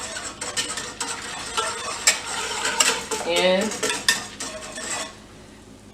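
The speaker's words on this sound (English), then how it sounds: "Make sure everything is whipped together, and I got it on low so it won't be boiling a lot" A whisk clinks and scrapes steadily in a pot of pumpkin puree cocktail mixture warming on low heat, with a faint sizzle beneath the fast, close metallic stirring, and a brief spoken word.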